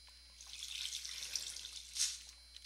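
Minecraft Skyblock water flowing and splashing, a bright, hissy trickle with a brief louder splash near the end, close and alone with no voices.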